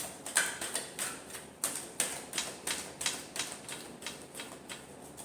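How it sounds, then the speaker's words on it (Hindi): Tarot cards being shuffled by hand, a dry rapid riffling and flicking in a quick series of short bursts, close and fairly quiet with no talking. "Last shuffle."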